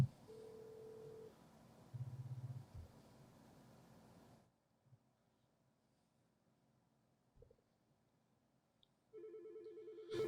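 An office desk phone on a 3CX system rings with an incoming call, short electronic ring bursts separated by near-silent gaps, clear and close, then a longer ring at the end.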